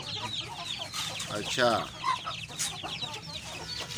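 Shamo chickens in a Pakistani backyard setup cluck repeatedly at close range, with a person speaking briefly over the steady calls.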